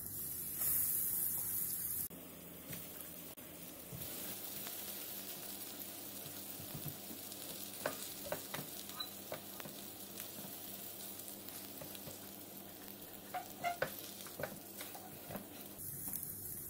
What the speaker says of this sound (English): I'll shallow fry the patties